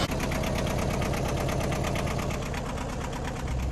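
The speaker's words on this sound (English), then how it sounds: "now that our motor is working" A small boat motor runs steadily with a rapid, even chugging rhythm, close and constant throughout.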